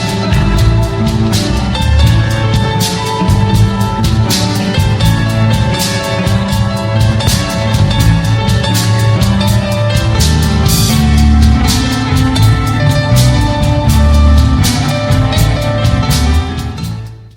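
A live blues song with jazz instrumentation, played in a club, runs loud and steady throughout with a regular beat, sustained chords and crisp percussive hits, ending with a brief fade.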